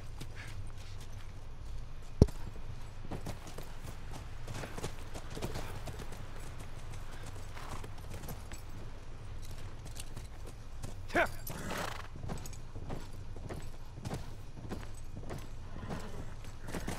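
Horse hooves clip-clop in a steady walking rhythm throughout in The Last of Us, moderately close over a low ambient rumble, with a couple of brief sharper knocks.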